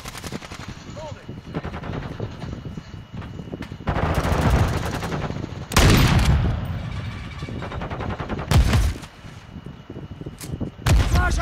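Gunfire in the shooter Call of Duty MWII, with steady automatic weapon fire throughout and several louder, close bursts standing out over a busy battle backdrop.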